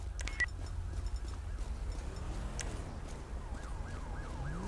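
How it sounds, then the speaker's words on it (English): Police car siren in a law-enforcement roleplay game, wailing at a distance beneath engine rumble and road noise, fading in and out, with a brief sharp electronic chirp near the start. "Wow, that siren sounds so good."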